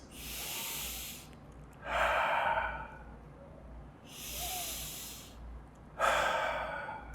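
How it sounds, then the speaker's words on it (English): Slow, audible breaths during a children's chair yoga session, alternating long airy inhales and fuller exhales, four distinct breaths close to the microphone with no talking. "Take a breath here."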